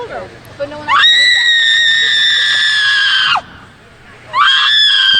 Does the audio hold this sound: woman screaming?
yes